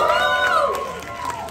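An audience cheers and shouts for young musicians at an Ugadi festival music school performance, a brief burst of crowd voices and whoops with light clapping underneath.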